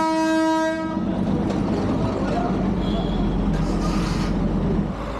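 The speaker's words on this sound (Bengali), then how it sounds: "ওই যে দূরে বেরিয়ে যাচ্ছে টয় ট্রেন।" The Darjeeling toy train near Kurseong sounds a loud horn blast, then rolls past with a steady rumbling clatter of wheels on the rails for several seconds.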